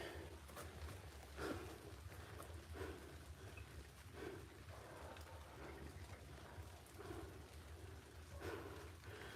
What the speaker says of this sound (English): Wow, it's raining.